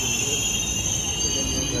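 A metro train rolls into a station with a steady, loud rumble of wheels on rails and a high, continuous squeal running through the whole stretch.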